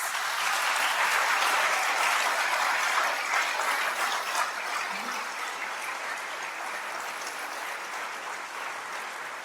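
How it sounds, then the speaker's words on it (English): An audience at a Yale Law School alumni weekend award presentation applauds an honoree with steady, dense clapping that holds strong and then eases slightly toward the end, with no voices over it. "I think we should give him a huge round of applause"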